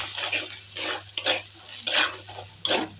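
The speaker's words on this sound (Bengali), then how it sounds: "দেব হলুদ গুঁড়ো দেব নুন দিয়ে এবার নাড়াতে থাকবো" A prawn curry seasoned with turmeric and salt is stirred in a pan: a spoon scrapes and clatters against the metal in several quick, separate strokes over a faint steady hum, nearby and clear.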